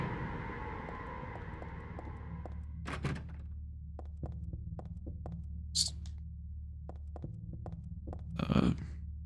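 In a dark hallway in the video game Silent Hill 3, a low droning hum carries slow, evenly spaced thuds like a heartbeat, with a few brief, louder knocks and bursts breaking through.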